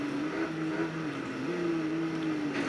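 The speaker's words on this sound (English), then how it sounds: "I absolutely love this car now. It sounds cool." A Spyker D8 Peking-to-Paris off-road car in the racing game Test Drive Unlimited 2 drones at a steady, slightly wavering engine pitch, a continuous loud hum with no voices.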